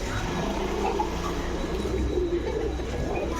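A pet shop full of pigeons keeps up a continuous cooing chorus, several birds overlapping at steady loudness over a faint background hum.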